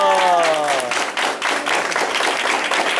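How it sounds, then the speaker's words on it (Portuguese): An audience at a gathering of social workers, students and homeless people applauds Camila; a voice trails off at the start, then scattered clapping builds into steady applause. "Uma salva de palmas para ela."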